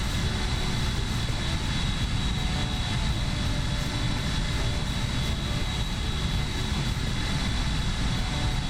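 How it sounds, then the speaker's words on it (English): Airbus A319 engines in the X-Plane flight simulator, a constant loud jet roar with a broad rushing hiss and faint high whine, unbroken and steady with no talk. "This is the Airbus A319."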